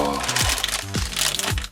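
A plastic bag crinkles and crackles up close in a few rustling bursts as an Iron Man Mark 43 action figure is unboxed, with low voiced sounds underneath.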